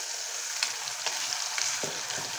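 Ground masala paste hits frying onions in a pan for a prawn masala gravy, raising a bright, continuous sizzle with a few soft stirring knocks, close and without voices.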